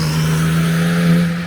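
A Porsche 997 911 Turbo, rebuilt from a totaled car and missing its body panels, running with a steady engine drone that swells slightly near the end, close and alone.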